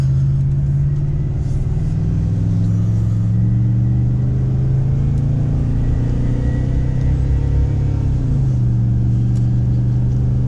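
Gas 6.0 engine of a 2004 Chevrolet 2500HD pickup with 195,000 miles, towing a small trailer up a mountain grade, drones steadily with a deep, loud rumble and a slight pitch shift late on, with no talk.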